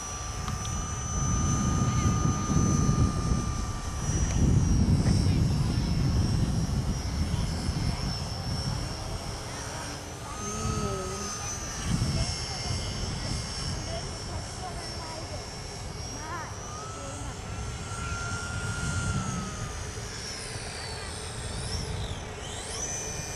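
A Parkzone Typhoon 2 3D RC airplane on its maiden flight, its electric motor buzzing and whining at steady distance through wind noise, with occasional pitch swoops as it passes; people talk quietly nearby.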